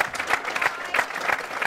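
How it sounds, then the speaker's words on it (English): A press conference audience for a cage fighting event applauds steadily, a dense wash of many hands clapping at moderate distance with no voices standing out. "Big round of applause."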